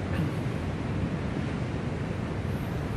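Ocean surf washing steadily on an open shore, a dense continuous roar mixed with wind buffeting the microphone, with no voices and no distinct individual wave breaks.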